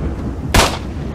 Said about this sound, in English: How do those shots not kill him?